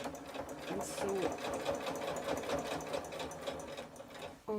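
Sewing machine stitching along a bag lining, a close, steady fast whirring chatter of the needle running continuously and stopping abruptly at the end, with someone talking over it.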